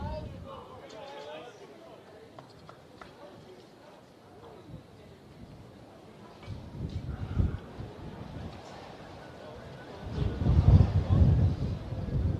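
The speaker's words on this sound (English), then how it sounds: "Wind's really blowing now." Wind buffets the microphone at a high school baseball field, a steady rumbling gust that swells louder toward the end, heard beneath a commentator speaking throughout.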